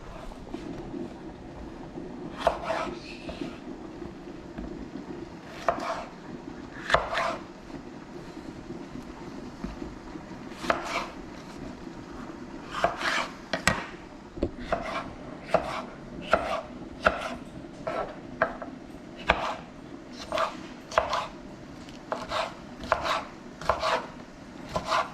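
Onion, garlic and peppers chopped with a knife on a cutting board for Caribbean-style callaloo greens, sharp close knocks in irregular bursts over a constant low background rumble.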